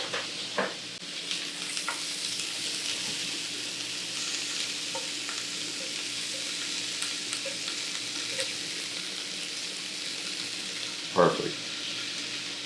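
Asparagus cooking in a pan gives a soft, even sizzle throughout, with a few small clicks and one louder clatter near the end, heard close by and without talk.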